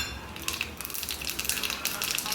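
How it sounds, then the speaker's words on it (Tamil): Mustard seeds splutter and crackle in hot oil while tempering a bottle gourd curd pachadi, a close, steady sizzle with scattered small pops. "கடுகு பொரிஞ்சிச்சு."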